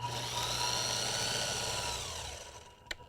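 A sewing machine stitching lines makes a steady, close motor whir that runs without pause and then winds down, ending with a small click.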